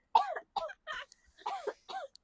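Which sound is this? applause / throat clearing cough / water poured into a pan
throat clearing cough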